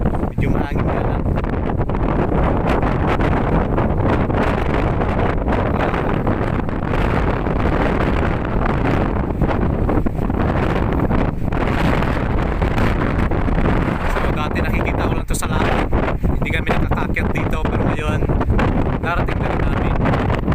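Strong wind buffets the microphone without pause on an exposed rocky height near a house built on a rock, a loud roaring rumble throughout.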